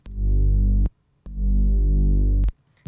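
Two long, deep synth bass notes, each held and sliding in pitch, separated by a short gap, loud and close with nothing else.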